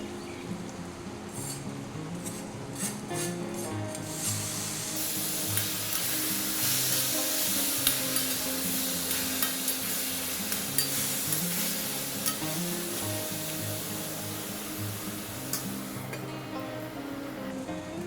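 Boiled kohlrabi frying in a pan over medium-low gas, a constant close sizzle that grows louder and brighter partway through, with light clinks of stirring and no one speaking.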